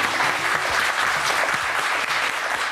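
A studio audience at a talk show applauds, a close, dense, steady patter of many hands clapping for a few seconds with no voices over it.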